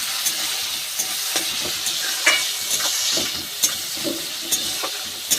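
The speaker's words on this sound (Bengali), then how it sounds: "এইবার পেঁয়াজ টমেটো ভালো করে ভাজা ভাজা করে নেব।" Chopped onion and tomato frying with salt in a pan, a steady close sizzle punctuated by regular sharp scrapes and taps of a stirring spoon, no talking.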